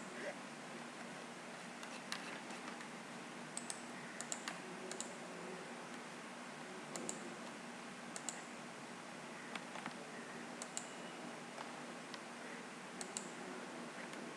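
Quiet keystrokes come as sparse, scattered clicks on a computer keyboard while a username and password are typed, set over a steady background hiss.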